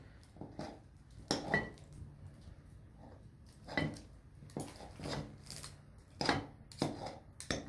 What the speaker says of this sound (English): we're going to take our knife and we're going to move along the butter and cut it into the flour